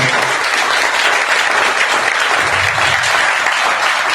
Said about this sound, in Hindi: मैं एक बार तालियां चाहूंगा